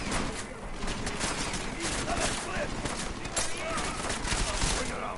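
Rapid gunfire in the video game Deus Ex: Mankind Divided crackles steadily throughout, dense and busy, with a player talking over it.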